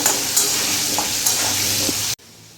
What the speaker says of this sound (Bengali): আলুটা আমি লাল লাল করে ভেজে নেব।